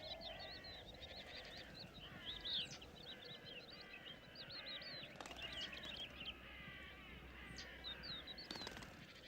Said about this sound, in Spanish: Cornejas, cuervos,